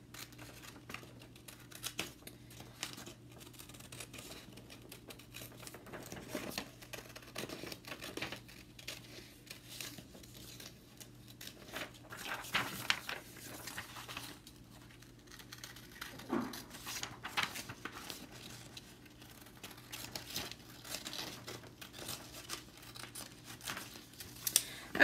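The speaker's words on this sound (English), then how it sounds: "I'm just going to simply cut on that line there" Scissors cutting paper along a drawn line for a composition book planner template, with faint intermittent snips and paper rustles, quiet and close.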